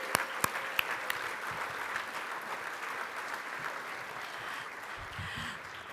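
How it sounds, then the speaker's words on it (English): Applause from a gala audience honoring a planning committee, opening with a few sharp individual claps before settling into a steady, moderate round of many hands that carries on evenly. "Please, a round of applause."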